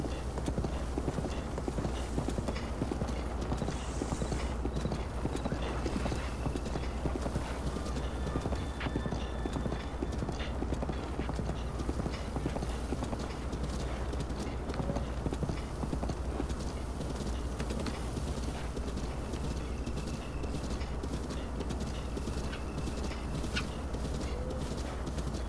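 A horse's hooves clip-clop steadily in Zelda: Breath of the Wild, a continuous rhythmic trotting under a dense, constant game soundscape of wind and ambience that stays even and moderately loud throughout.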